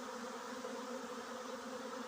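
A dense, steady buzzing of a honeybee swarm clustering, continuous and fairly close, with no voices.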